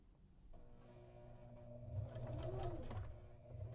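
A sewing machine runs in a steady mechanical hum, stitching green rickrack down its center onto fabric, with the motor pitch rising slightly midway through. The sound is close and clear with no voices.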